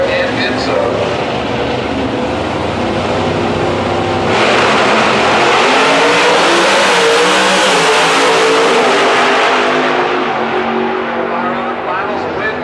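Pro Stock drag race cars roaring down the strip at Houston Raceway Park, a loud sustained engine blast that surges sharply partway through, with an announcer talking over it.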